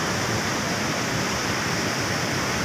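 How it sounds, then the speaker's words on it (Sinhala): Duwili Ella waterfall in Sri Lanka, a dense, unbroken roar of falling water that sounds loud and steady, with no voices. "ඉතින් ඔන්න තමයි දූවිලි ඇල්ල තියෙන්නේ."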